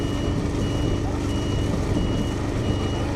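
Repeated reversing beeps from a vehicle, likely a truck, sounding at steady intervals over continuous loud outdoor noise with a low rumbling background throughout.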